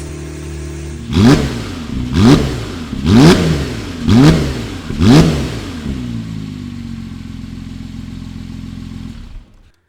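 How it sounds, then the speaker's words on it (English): A Porsche 911 GTS engine, crash damaged but smoke-free, revs sharply five times in a steady rhythm, each blip rising and falling, then settles into a low, even idle before cutting off. "Let's give it a few revs."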